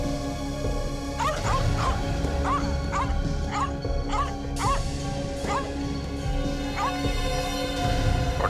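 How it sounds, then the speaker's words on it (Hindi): A distressed dog left shut inside a house yelps and whimpers in a steady series of sharp, high barks about every half second, heard from nearby over a constant low background hum. "कुत्ता परेशान है।"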